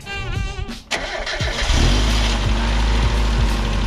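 A warm Mazda MX5 engine cranks, catches and starts, then settles into a loud rough idle close by.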